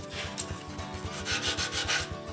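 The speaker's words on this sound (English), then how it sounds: "So, Tony, can I have a go at sanding this down?" Hand sanding a wooden quaich, a steady rhythmic rasping rub of abrasive on wood in quick back-and-forth strokes, close and fairly loud with no talking.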